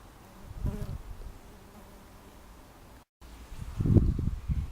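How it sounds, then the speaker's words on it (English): Low buzzing of British honeybees drifting close by among flowers, swelling in two short bursts with quieter hum between, no voices. "But they're full of bees this morning. Bees enjoying them. Little British"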